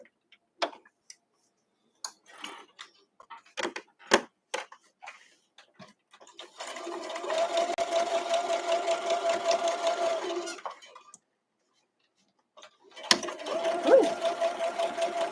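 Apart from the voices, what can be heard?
sewing machine stitching a quilt block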